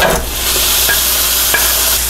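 Ground beef, a little over a pound, sizzles in a skillet with a tablespoon of olive oil, a steady broadband frying hiss with a few faint stirring clicks and scrapes throughout.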